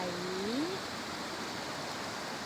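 A mountain stream flowing toward a lake steadily rushes, a close, even wash of noise with a brief whistle-like tone near the start.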